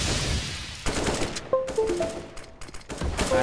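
SMG fire in a competitive shooter video game, quick rattling bursts separated by short pauses, close and sharp, with small chimes of game effects between bursts.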